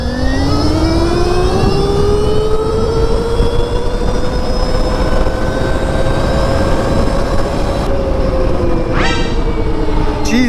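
Stark Varg electric motorcycle passing at top speed, a loud rising-and-falling electric motor whine with a clear tonal sweep over heavy wind and road rush, sweeping close by and fading away.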